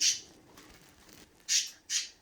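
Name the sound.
birds squawking, sound effect in read-aloud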